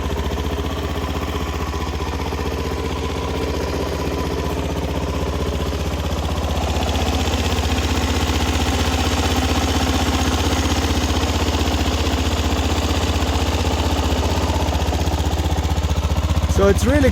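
A Suzuki DRZ 400 SM motorcycle with its stock exhaust idles in a steady, low, quiet thrum that rises slightly partway through and continues unbroken for the whole stretch.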